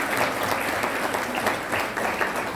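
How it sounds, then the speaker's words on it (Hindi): Crowd at a motivational talk bursts into hearty applause: many hands clap continuously at a loud, even level for the whole stretch, with no voice heard over it. "एक बार जोरदार तालियां बजा देंगे इनके लिए"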